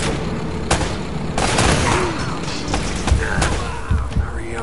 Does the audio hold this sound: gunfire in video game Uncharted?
yes